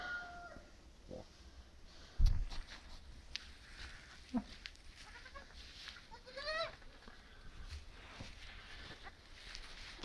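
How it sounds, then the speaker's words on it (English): A mother goat with newborn triplet kids on a farm gives a few brief bleats amid quiet barnyard noise, with a sharp knock partway through and a person speaking softly nearby. "Hey there, Mama Goat."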